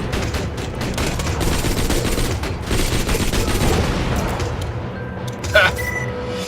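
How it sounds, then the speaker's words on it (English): Machine pistols rattle out rapid, continuous automatic fire in the video game Borderlands 2, loud and close, with a dense crackle that goes on throughout, and a few brief tonal game effects near the end. "I like dull machine pistols so much better."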